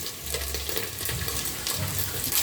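Omena sardines fry in a pan with a steady, close sizzle and bubbling, holding an even level throughout with no voices.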